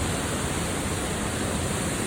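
Constant heavy rush of water pouring down at Duwili Ella, a Sri Lankan waterfall fed by the Walawe river, heard as a close, even, hiss-like roar with no voices over it.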